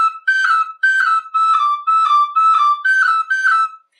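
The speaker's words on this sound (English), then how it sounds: "Bounces where you put your fingers down onto the holes of the whistle with a good bit of force and they kind of bounce up and down themselves." A tin whistle plays a bright repeated phrase of short separated notes, each lifted by a bounced-finger ornament as fingers strike the holes hard, close and loud, with no other sound.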